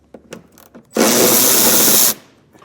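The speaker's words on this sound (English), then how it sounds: "grab a 10mm and remove our 3 bolts." A 10mm socket tool backing bolts out of a 2025 Toyota Sienna during a Class III trailer hitch installation, a few light clicks followed by a loud, steady whir of about one second, close up.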